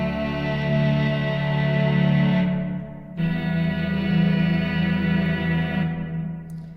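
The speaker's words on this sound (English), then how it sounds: "Right, and the reverb is really lovely." A sustained Mellotron-style note from the Mellowsound iPad app rings with heavy reverb and echo, broken briefly by a cut before the washy, drawn-out tone resumes.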